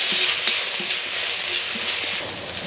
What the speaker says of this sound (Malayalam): കടുക് വറുത്ത് സവാള ആദ്യം ഒന്ന് വഴറ്റിയെടുക്കാവേ